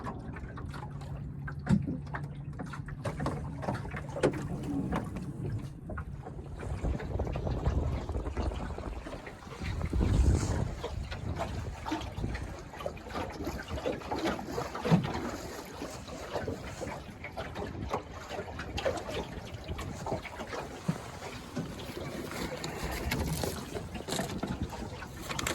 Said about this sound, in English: it's sailing flat now, and it's holding a course as well as a 12-foot boat can